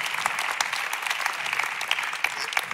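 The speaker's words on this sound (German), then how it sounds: "Lass uns dem Gott einen Applaus geben." Steady applause from a church audience during a Sunday service, many hands clapping densely and evenly throughout, filling the room at moderate loudness with no voices standing out.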